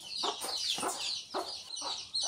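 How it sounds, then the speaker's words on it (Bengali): A chicken clucks close by in a household kitchen, giving four or five short, sharp clucks in an uneven rhythm over a faint background. "এই যে মুরগি এসে"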